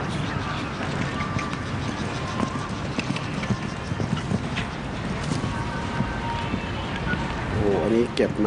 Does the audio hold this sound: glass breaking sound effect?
no